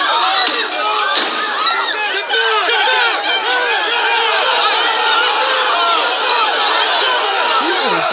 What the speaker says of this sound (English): There's a large peaceful protest taking place here.